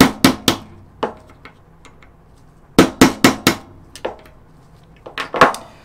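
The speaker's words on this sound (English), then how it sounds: "Let's go ahead and drive our roll pins out." A 4-ounce hammer strikes a roll pin punch to drive roll pins out of a CZ Bren 2 charging handle: loud, close metallic taps in quick clusters of three or four, separated by short pauses.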